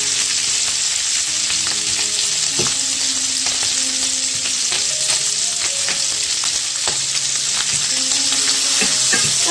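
Slices of spicy kielbasa sausage sizzle steadily in a hot pan, a constant loud frying hiss broken by scattered pops and occasional scrapes of stirring.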